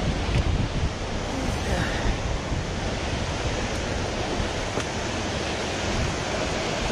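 Multnomah Falls in Oregon roars in a steady, dense wash of falling water, loud and close with spray, mixed with gusting wind noise across the microphone for the whole stretch.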